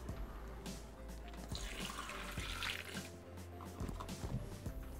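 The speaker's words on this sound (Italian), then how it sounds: "e l'acqua." Water pours into a Thermomix TM6 bowl over potatoes and pumpkin for soup, a steady faint trickling splash lasting several seconds with no talk.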